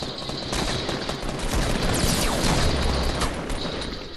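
Video game gunfire: a dense, continuous rattle of rapid automatic shots with sharp cracks, loud and close, filling the whole stretch without pause.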